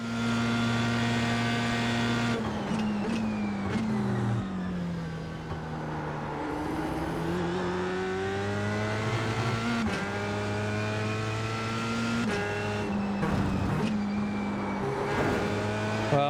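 Dallara F3 race car screaming around Virginia International Raceway, its engine loud and close throughout, pitch climbing and dropping through repeated upshifts and downshifts as it brakes and accelerates, with no talk over it.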